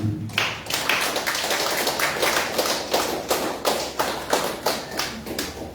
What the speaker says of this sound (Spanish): Regálale una ofrenda de palmas al Señor.